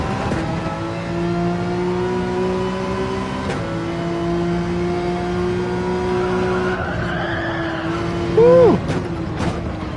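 Race car in Gran Turismo 7 skids near the wall, steady engine drone with a sharp tire squeal breaking in near the end, loud and close with no talk.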